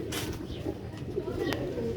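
Rooftop pigeons kept with Sialkoti quail coo softly and repeatedly up close, low throaty calls rolling over one another against a quiet background.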